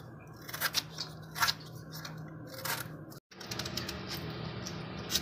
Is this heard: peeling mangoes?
yes